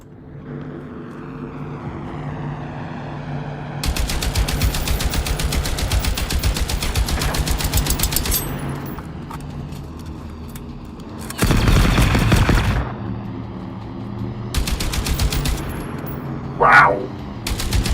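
Bursts of PSG rifle fire in the shooter game Generation Zero come in sustained rapid volleys, several seconds long, loud and close, separated by short pauses, with a sharp isolated crack near the end.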